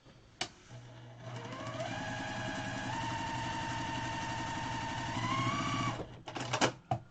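A sewing machine stitches small quilt pieces for an outdoor starburst quilt, a steady close mechanical whir and rapid needle chatter that runs several seconds, rises slightly, then stops with a few handling clunks.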